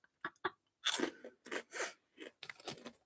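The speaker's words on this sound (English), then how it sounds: "Do I have to chomp really close to the microphone?" Food is chomped and crunched right against the microphone, several loud, crackly bites and chews in irregular bursts with short silences between them.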